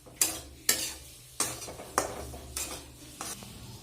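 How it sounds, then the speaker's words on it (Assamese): Semolina being slowly dry-fried in a pan over low gas, heard as repeated scraping stirs at a steady rhythm with a soft, faint sizzle underneath, close up and without talk. "আৰু এয়া মই চুজিখিনি লাহে লাহে ভাজি আছো"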